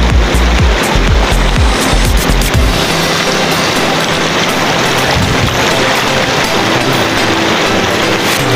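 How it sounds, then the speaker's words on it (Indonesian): The Cililin river in Indonesia rushes over rocks, a loud, dense, continuous roar of flowing water, with some low thumping rumble in the first few seconds. "di sungai ini"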